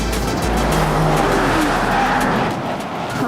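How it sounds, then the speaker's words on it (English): Car cornering at top speed on a track, a loud engine roar with tires squealing and skidding through the bend, close and continuous with no talking. "We are going top speed around this corner."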